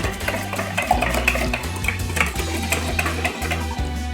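A spoon scrapes and clinks steadily around a bowl while salt and black pepper are mixed in for a potato gratin, a close, busy rhythm of stirring and tapping under a low background hum, with no talking.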